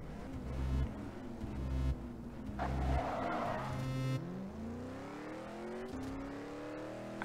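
Range Rover racing in the Rebel Racing video game, engine revving and shifting through gears with tire squeals and skids, loud and continuous with rising engine pitch, no talking.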